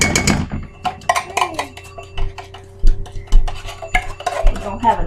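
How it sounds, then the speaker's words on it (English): Soup stirred in a pot during a virtual reality cooking game, with loud knocks, clanks and scraping thuds of a utensil against the pot in an irregular rhythm, and voices talking in the background. "Stir it. Stir it,"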